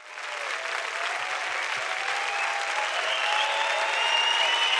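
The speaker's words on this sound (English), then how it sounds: "Big round of applause for both of you." Loud, sustained audience applause at the Ducati 2018 world premiere, a dense hall full of clapping that swells and holds steady, with a few cheers and whistles riding on top.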